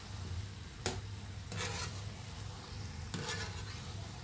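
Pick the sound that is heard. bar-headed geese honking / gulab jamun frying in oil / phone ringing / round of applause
gulab jamun frying in oil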